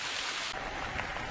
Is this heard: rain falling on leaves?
yes